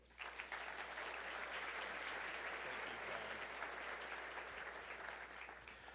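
Steady, dense applause from a large crowd at a regional mobility summit's opening session, honoring the speakers and award winners; it stays loud and even for the whole stretch.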